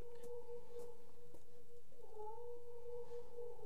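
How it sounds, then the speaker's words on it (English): A cat in the video game The Last Door meows in long, drawn-out tonal yowls, fairly faint against a low background hum, with a few soft clicks scattered across it. "hear the cat meowing"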